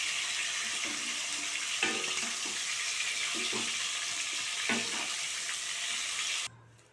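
Prawns frying in oil for prawn biryani give a steady close sizzle with occasional clinks and stirring, then the sound cuts off abruptly near the end.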